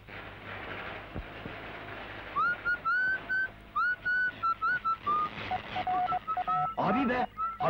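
Whistled melody carried over a radio or headset in a 1972 Turkish film scene, a series of clear rising and sustained tones in short bursts, fairly loud over steady background noise, with some talk.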